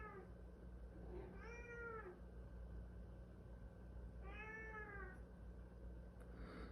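A house cat meows twice, distinct drawn-out calls a few seconds apart, fairly faint against a steady low room hum.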